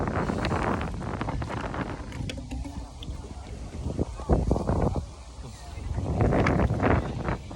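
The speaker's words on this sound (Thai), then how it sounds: "ลมแรงมากครับทุกคน" Strong wind buffets the microphone on the bank of the Mekong River, a continuous loud rumbling roar with gusts that swell and fade, while someone talks intermittently over it.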